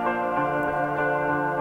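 Chopped single-shot guitar notes soaked in Tora Verb and Echo Boy effects form a dense, continuous wash of sustained harmonic tones, steady and moderately loud with no voices.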